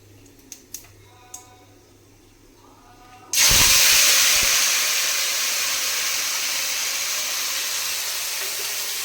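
Boiled potato and bitter melon hitting hot oil fried with five-spice and dried chilli, bursting into a loud, close, steady hiss after a few light clicks and continuing alone.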